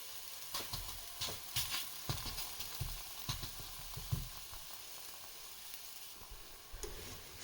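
Spiced red rice roti sizzles on a hot tawa griddle over a medium flame, a steady soft crackle and hiss with a few sharper clicks and scrapes, fairly quiet with no talking.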